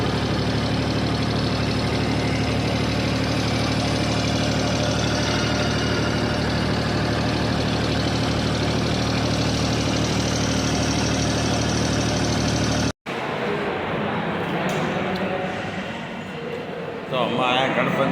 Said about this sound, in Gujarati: ટ્રેક્ટર લઈને હેડ્યા ઘેર આ સિદ્ધપુરથી